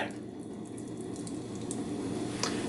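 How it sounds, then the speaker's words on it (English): Beer pours steadily into a bowl of fish-and-chips batter, a continuous soft liquid rush with faint fizzing, close by and quiet, with no talking. "I'm going to pour it in from this side because I also need to be able to keep whisking while I'm pouring the beer in"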